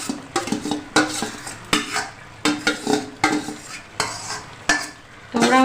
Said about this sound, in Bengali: যে মাংসটা এবার আমি মিশিয়ে নেব ওই চালের সাথে